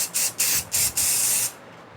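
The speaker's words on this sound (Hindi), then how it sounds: "सेट करने के लिए हमने हेयर स्प्रे किया" Hair spray hisses from an aerosol can in short, crisp bursts: four quick puffs and then one longer spray, close and clear with no talking, as it sets finger waves in a professional styling session.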